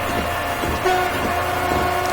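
A locomotive horn sounds a steady sustained blast while a train in Train Simulator 2016 on the Riviera Line passes crossings, the horn holding loud over the rumble of the moving train.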